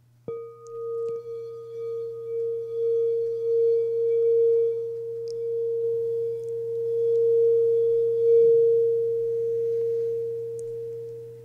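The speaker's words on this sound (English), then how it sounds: "he'll do that using different bowls, which create different sounds, which create different vibrations" A singing bowl struck once and left ringing, a steady sustained tone that hums and wavers in loudness for about eleven seconds alongside a low drone, with no voices.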